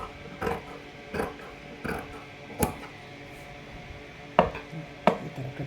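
Scissors snip through blouse fabric in sharp, separate cuts at an irregular pace, crisp and close, with faint rustling in the pauses between strokes.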